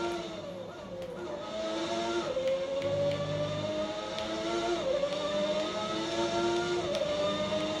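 A 1991 McLaren F1 car's engine in a racing video game at the Austrian Grand Prix, a steady high-pitched whine rising and falling through gear shifts, loud and continuous with no talk.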